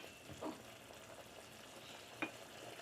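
Ground beef frying in a pan for Mongolian beef, a quiet steady sizzle with a couple of brief clinks of a utensil stirring against the pan.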